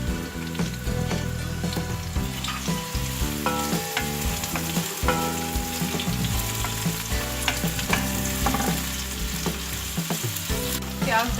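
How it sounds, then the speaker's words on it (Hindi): Onions sizzle and fry in hot oil in a large pot, a continuous crackling hiss with stirring clatter throughout, close and steady, with no talking. "प्याज डाल के ब्राउन करना है।"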